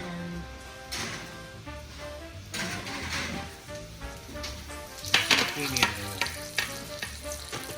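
Zucchini, carrots and other vegetables sizzle loudly in a hot pan, with bursts of stirring and utensil clatter growing sharper toward the end.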